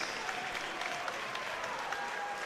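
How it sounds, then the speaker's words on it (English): An audience applauds both fighters after a fight, with steady dense clapping from a crowd that holds at an even level throughout. "big round of applause for both fighters after a great fight"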